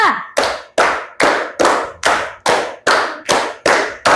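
A classroom of children clapping a rhythmic pattern in a religious studies lesson, about ten sharp, evenly spaced group claps, loud and close with no talking.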